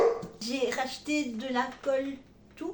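A dog barks and yips in short bursts while a person keeps talking over it.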